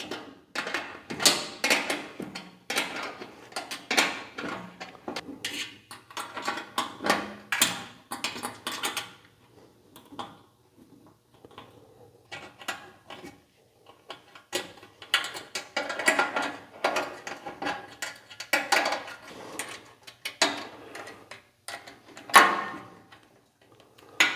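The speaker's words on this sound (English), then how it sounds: "Use your 10mm wrench and tighten those up" A 10mm wrench tightens bolts on a new slide hinge for a Bullseye grill, giving close, irregular clicking and metallic ratcheting in bursts with short pauses and rattles of loose parts.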